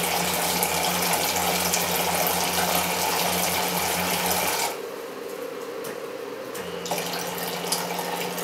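A water pump running in a time fountain setup, giving a steady splashing flow with a low mechanical hum that cuts out partway through, leaving a quieter watery trickle before the hum returns.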